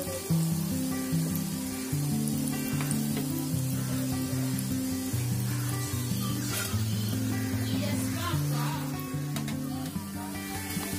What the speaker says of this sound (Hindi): इसमें कुछ अभी हो रहे हैं फ्राई होना और कुछ बिल्कुल रेडी हो गए